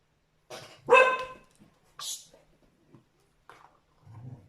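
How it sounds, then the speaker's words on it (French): A dog barks several times nearby, a couple of loud sharp barks followed by quieter, scattered yips and a low grumble, with pauses between. "moi c'est mon chien qui aboie"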